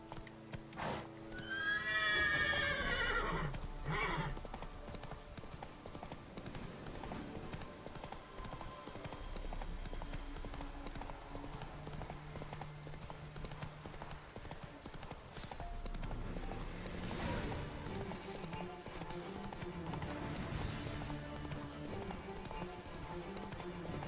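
Roach the horse trots in The Witcher 3, a steady clip-clop of hooves with a loud whinny near the start, carried over continuous game music and ambience.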